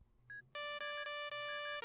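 A telephone ringtone plays a short, bright electronic melody of pulsing notes, starting after a brief tone and sounding clear and alone.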